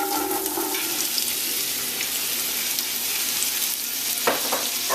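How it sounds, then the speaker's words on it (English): Carrots frying in hot oil for minestrone, a steady bright sizzle throughout with a faint clink near the end. "the oil's been heating for about 3 minutes, and now we're going to put in our carrots"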